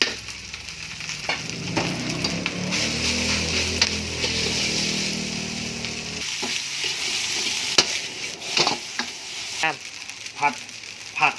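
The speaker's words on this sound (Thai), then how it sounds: "ผัดไปเรื่อยครับใช้ไฟอ่อน ผักเริ่มสุกแล้วใส่ใส่ข้าวเลยครับ" Vegetables and rice stir-fried in a pan over low heat give a steady sizzle with scraping stirs and clinks of a spatula, close by, followed by a quieter stretch of intermittent scrapes; someone talks over part of it.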